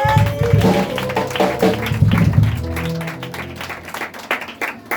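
A church congregation applauds and acclaims during a spirited worship service, the clapping and cheering rising over sustained music and continuing steadily throughout.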